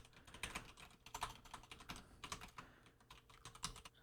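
Rapid keystrokes on a computer keyboard as notes are typed, irregular bursts of clicks close to the mic, fairly quiet and alone with no talking.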